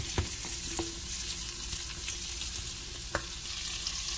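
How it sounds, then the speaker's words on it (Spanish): Zucchini and bell pepper fry in a pan with a constant close sizzle, while a utensil now and then knocks or scrapes as the vegetables are stirred. "Agregamos la calabacita y mezclamos."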